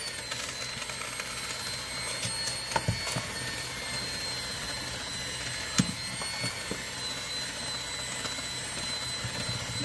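A kitchen mixer runs on its turbo setting while mixing homemade brown sugar, giving a loud, steady motor whir with a high whine that holds without a break.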